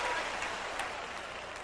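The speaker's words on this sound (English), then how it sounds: "clap your hands, somebody" An audience at a sermon claps its hands as a steady, dense wash of applause that holds at an even level for the whole moment, with no voice on top.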